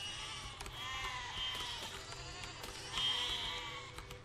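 Sheep bleat in the physics building game Besiege, several wavering, nasal cries close together over a low mechanical hum, fairly clear and near.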